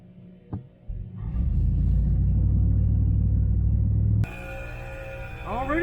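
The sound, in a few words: truck engine running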